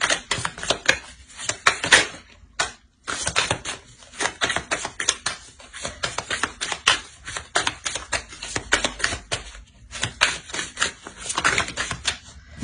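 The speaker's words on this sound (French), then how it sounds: "Je vais rajouter une carte." Tarot cards being shuffled and laid into a spread, a dense run of quick papery flicks and snaps with brief pauses, close and fairly loud, with no talking.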